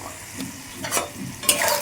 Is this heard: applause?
no